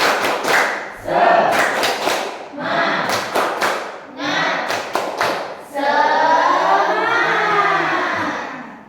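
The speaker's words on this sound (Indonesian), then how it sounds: "kalian tepuk semangat terlebih dahulu ya" A class of young schoolchildren in a second-grade lesson performing the rhythmic tepuk semangat clapping chant, groups of claps interleaved with chanted voices, ending in a sustained shouted syllable.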